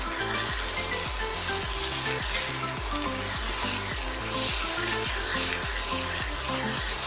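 Raw mango pickle mixture for South Indian thokku sizzles in hot oil while being stirred in a quick, regular scraping rhythm.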